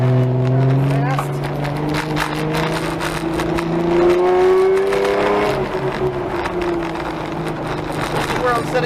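A car on a wet autocross course drones at close range, its engine note rising and falling as it shifts and accelerates, with hiss and spray from the wet surface. A voice talks over parts of it.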